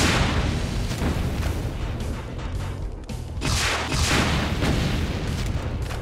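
Rocket explosions in Brutal Doom: a steady run of heavy booming blasts, loud and close, with dense rumbling low end and repeated bursts across the whole stretch.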